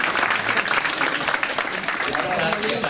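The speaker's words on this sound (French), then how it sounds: "Levez-vous, je veux qu'on vous applaudisse." An audience at Comic-Con Paris claps in a dense, sustained round of applause that stays loud and even throughout, with a voice speaking over it.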